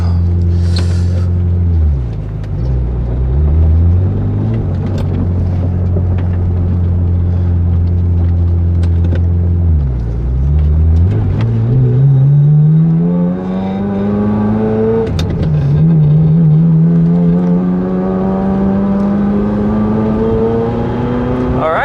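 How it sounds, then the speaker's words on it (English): A car on a test drive with newly fitted coilover shock absorbers, its engine droning loud and close throughout, with a few drops in revs and a steady rise in pitch as it accelerates. "test driving the car with the new shock absorbers"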